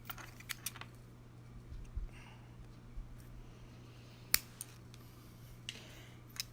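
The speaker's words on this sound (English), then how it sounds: "And then I've got this leather, and I'm going to just trim that." Scissors snip through leather cord in a quiet room, with several sharp, separate clicks spread irregularly and close to the listener, one louder snap standing out near the end.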